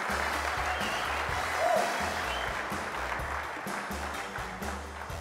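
An audience at the SolidWorks World 2013 Model Mania awards claps steadily for the third-place winner, sustained applause at moderate level with a rhythmic music beat pulsing underneath.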